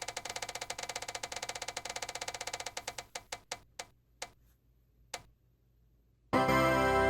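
A reading-list prize wheel clicks fast and evenly against its pointer, then slows to widely spaced single ticks before stopping, followed by a sudden burst of loud sound.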